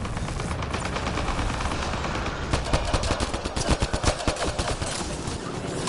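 Rapid bursts of automatic gunfire from the Mass Effect game, loud and dense, swelling into a fast rattling volley midway over a steady roar of combat noise.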